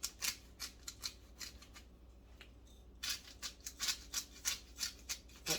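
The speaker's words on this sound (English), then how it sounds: "But I like a lot of freshly ground pepper." A pepper grinder cracks fresh pepper in a kitchen, producing quick crunchy grinding twists in a rhythmic series, pausing briefly in the middle and then resuming, close and fairly quiet.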